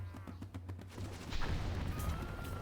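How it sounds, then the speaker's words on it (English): A bowman unit's ranged attack in Civilization V: a quick volley of sharp clattering hits, then a heavy rumbling boom that swells and keeps rolling to the end, with no voices. "Move this bowman here and shoot."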